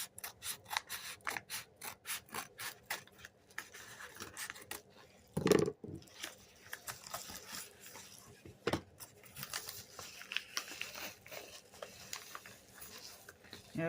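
Scissors snip through tape on a mailed envelope, a run of close, crisp cuts and rustling paper with a couple of louder thumps, quiet and without talk.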